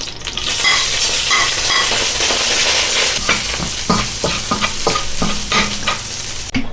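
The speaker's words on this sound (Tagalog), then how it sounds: "At dito, maglagay tayo dito ng mantika. Isahin lang natin yung ating bawang." Garlic sautéing in hot oil in a pan, with a steady loud sizzle joined halfway through by rhythmic spatula scrapes and taps as it is stirred, no voices.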